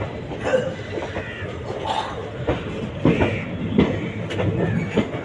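A train rolls into Palakkad Junction with a rumbling, rhythmic clatter of wheels over rail joints and occasional squeals, heard close from aboard, with faint talk underneath.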